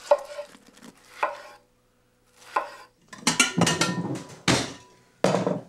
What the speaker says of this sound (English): The key to grilling a pineapple is to cut it into nice thick slices.